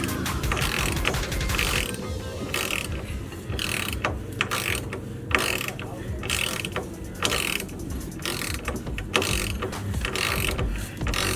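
A ratchet tightens bolts on a sway bar and subframe brace being installed under a Honda Civic, its rapid clicking strokes repeating steadily and close over a constant background hum, with no talking.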